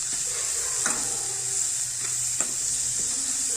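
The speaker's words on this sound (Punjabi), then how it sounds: "ਸਾਰੇ ਮਸਾਲੇ ਨੂੰ ਆਪਾਂ ਚੰਗੀ ਤਰ੍ਹਾਂ ਮਿਕਸ ਕਰ ਲਵਾਂਗੇ ਤੇ ਪਕਾ ਲਵਾਂਗੇ" Ground spices such as turmeric, red chilli, coriander and black pepper powder stirred and fried in a pan, a steady bright sizzle with a few soft spoon scrapes, close and continuous.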